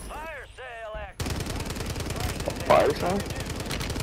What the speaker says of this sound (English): Bro, I'm getting shot at already